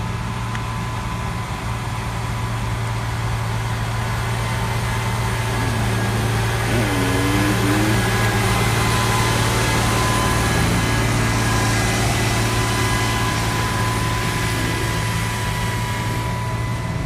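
A four-cylinder drag racing car in the Fast Fours class at the SCSDA Hammer Down Nationals qualifying revs with a loud, sustained engine drone whose pitch wavers and climbs, heard continuously without speech.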